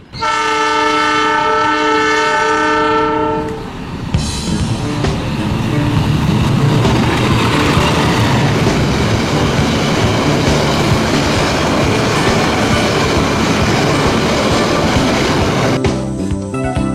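A passing train sounds a loud multi-tone horn, then roars close by with continuous rumbling and clickety-clack of railcars over the track for over ten seconds.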